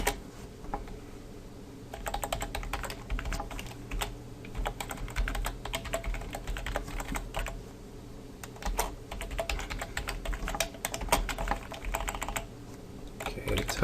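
Steady, close typing on a computer keyboard while writing PHP code, with rapid clicking keystrokes and brief pauses, no talking over it.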